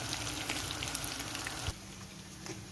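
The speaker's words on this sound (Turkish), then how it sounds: "Patlıcanlarımız kızardı, yeterlidir." Eggplant slices sizzle in hot oil in a pan, a close, continuous crackling fry with small pops, with no voices.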